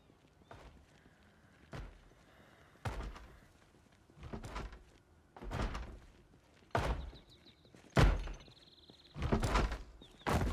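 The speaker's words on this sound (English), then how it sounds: "Okay, you're banging on the door." A zombie in Project Zomboid bangs on a door, delivering a series of separate heavy thumps and knocks spaced a second or so apart, growing louder and more frequent toward the end.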